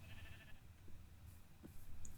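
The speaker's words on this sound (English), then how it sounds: "Hey, there's one of our free roaming sheep." A free-roaming sheep in a village-building video game gives a faint, wavering bleat near the start. Soft low ambient noise and a few small clicks follow it.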